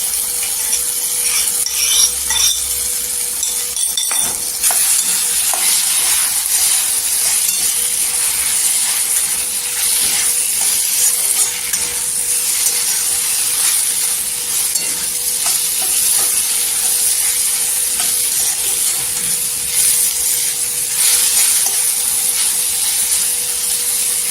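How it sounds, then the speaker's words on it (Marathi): Okra thecha with red chili frying in hot oil gives a loud, constant sizzle and crackle, broken by occasional scraping stirs and a faint steady hum underneath. "इथे तिखट लाल टाकायचं चवीनुसार छान असं तेलावर परतून घ्यायचं आणि आपला भेंडीचा ठेचा टाकायचा तेलामध्ये"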